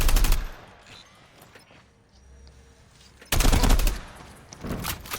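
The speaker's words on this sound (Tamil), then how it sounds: "ஏய் ஷாட் கன்ரா அது." Shotgun blasts in Call of Duty Mobile gameplay: a loud close burst at the start, a quieter stretch, then another heavy close blast followed by lingering gunfire.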